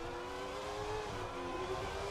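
A Formula 1 race car in the F1 2020 video game, a McLaren, holds a steady, high engine whine under throttle, loud and continuous with no talk over it.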